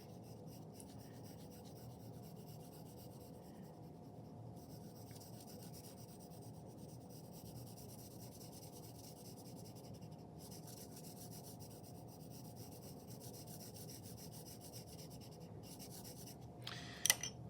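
An H pencil held on its side shades across paper in a soft, continuous scratchy rub, faint and even throughout, with a couple of small taps near the end and no talk.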